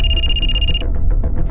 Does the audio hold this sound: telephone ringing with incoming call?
yes